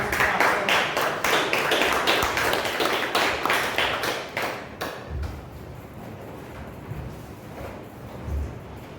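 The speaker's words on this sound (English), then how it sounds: "Let's welcome with a big round of applause." A Toastmasters meeting audience breaks into clapping, a brisk crowd applause that holds for several seconds, then thins to a few scattered claps and room noise.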